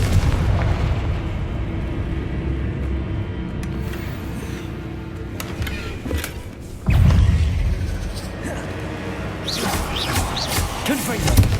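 Confringo fire spells blast in the wizarding game Hogwarts Legacy, with a deep explosive boom landing mid-clip amid rumbling game ambience and smaller crackling impacts, close and loud, with a voice talking.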